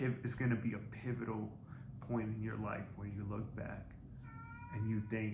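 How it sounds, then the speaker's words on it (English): A pet cat meows faintly in the background, a brief high mew near the end beneath a person talking steadily throughout. "you might be able to hear my cat in the background"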